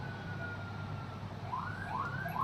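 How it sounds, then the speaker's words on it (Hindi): A police car siren wailing in the distance, faint rising-and-falling sweeps that grow louder toward the end over low background hum. "ओ, पुलिस की गाड़ी आ गई"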